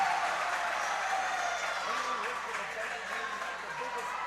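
A large home crowd at a high school homecoming-week volleyball match, Oskaloosa vs. Norwalk, keeps up a steady roar of cheering and applause that fills the gym, with a commentator talking over it.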